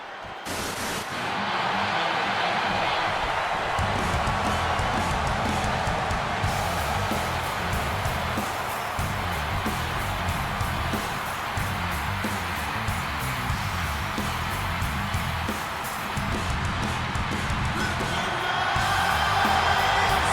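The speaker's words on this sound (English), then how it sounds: "And this capacity crowd just exploded" Roaring capacity arena crowd in WWE 2K26 cheering steadily for the Seth Rollins versus CM Punk match, a dense, sustained wall of noise with swelling peaks throughout.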